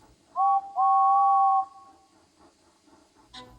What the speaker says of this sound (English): his guard blew the whistle